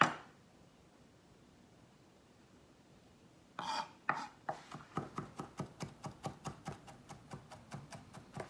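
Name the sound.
knife chopping garlic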